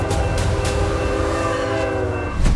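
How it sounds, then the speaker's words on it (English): A train horn blares in sustained tones as a train approaches along the rails, loud and close over the rumble of the moving cars, with no talking. "I start to hear the horns going."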